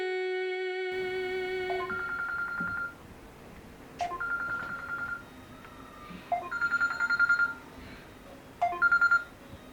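A phone call is placed: a steady dial tone, then a quick run of keypad tones, followed by repeated ringback bursts in a regular pattern, fairly quiet with no talk.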